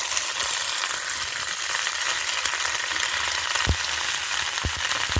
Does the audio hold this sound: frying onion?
yes